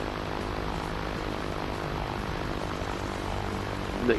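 A propeller airplane flies in the video game Just Cause, its engine a steady, continuous drone held at an even loudness throughout, with a brief swell right at the end.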